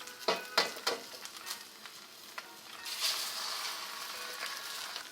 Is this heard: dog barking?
no